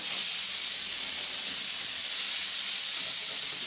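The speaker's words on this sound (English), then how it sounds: "There's still a bit of air in the tank, so on the compressor from earlier." Compressed air hisses steadily from a compressor's air tank through a nozzle, a loud, continuous bright rush that holds evenly without pause.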